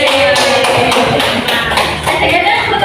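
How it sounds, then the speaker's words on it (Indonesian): A small group claps hands together after a quiz in an elementary school lesson, a quick run of loud, close, rhythmic claps that blend with a speaking voice. "Tepuk tangan."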